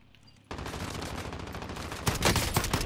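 Sustained rapid gunfire in the Call of Duty: Modern Warfare video game, starting abruptly after a brief quiet moment and growing louder and denser near the end, a continuous loud automatic burst.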